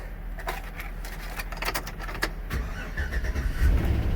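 A salvage car bought at auction cranks and starts on its key, the engine settling into a steady idle with a brief bird chirp in the background.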